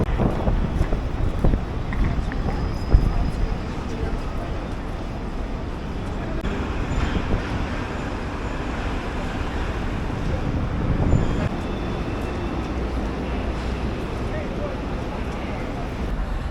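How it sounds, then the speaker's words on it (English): Busy street traffic near Times Square in New York City on a Friday morning, a dense steady roar of vehicles and city bustle with wind buffeting the microphone and people talking throughout. "the traffic here is absolutely insanity"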